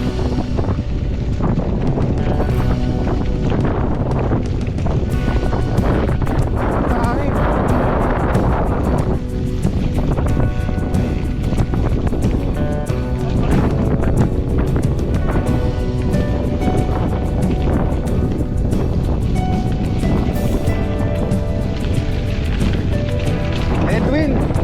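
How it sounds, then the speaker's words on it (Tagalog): Strong wind buffets the microphone across open farmland in Cuyapo, Nueva Ecija, a constant loud roar and rumble that persists throughout. "Nakatigim din kami ng malalakas na hangin."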